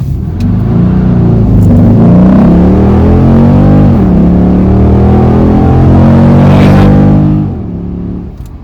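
A 2008 Dodge Challenger SRT8 launches hard from a brake hold with wheel spin, its V8 roaring loud and close as the revs climb steadily for about seven seconds, then dropping away as the throttle lifts.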